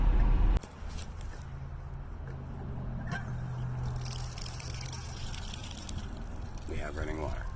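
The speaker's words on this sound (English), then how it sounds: "We have running water." Water trickles from a building's outdoor spigot into a water tank, a steady close splashing hiss that follows a brief loud knock and continues under a low hum and faint voices.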